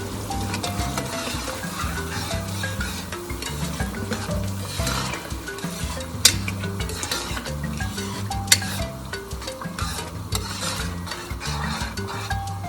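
A pot of seasoned, mildly spicy sauce simmers while being stirred, with steady bubbling sizzle and scraping spoon strokes against the pot, plus occasional clinks, continuous and close throughout.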